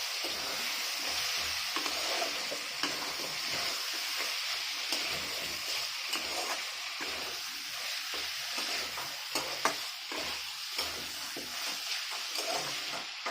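Drumsticks and potato pieces being stirred with mutton mince in a frying pan, a steady sizzle with repeated scraping strokes of a spoon throughout, close and fairly quiet, with no talking.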